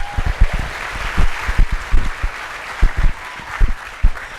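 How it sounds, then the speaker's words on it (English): An audience at a leadership speaker event gives a short round of applause, with scattered, uneven claps over a low room murmur. "Let's give him a round of applause."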